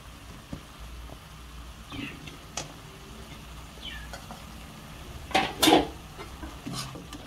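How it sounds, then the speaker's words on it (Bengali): Fried chicken pieces stirred into frying ground spices (turmeric, chili) in a pan for a chicken jhal fry: soft scraping and faint sizzle throughout, with a louder clatter of utensil against pan near the end. "মুরগির সাথে সেই মশলাগুলো যেন ভালোভাবে মিশে যায়, এই জন্য আমরা কিছুক্ষণ নাড়তে থাকবো"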